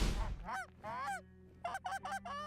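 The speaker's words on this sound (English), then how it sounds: "Wade and Craig are also a team when it comes to goose calling." Several geese honk in a rapid series of nasal calls, one bird close and loud with others answering, in a field of beans between a main road and a strip.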